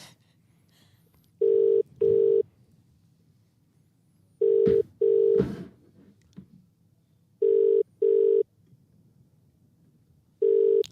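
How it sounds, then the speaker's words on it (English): A phone call rings out unanswered in a double-ring ringback pattern, four sets of paired electronic tones spaced a few seconds apart, with brief, quieter talk in the gaps. "Let's see if the player picks up the phone."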